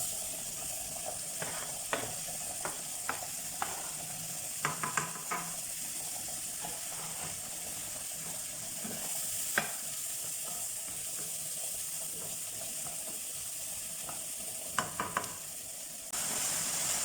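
Onions and garlic fry in butter with a steady sizzle and hiss that runs throughout, broken by light scattered clicks and scrapes of stirring, close and fairly loud.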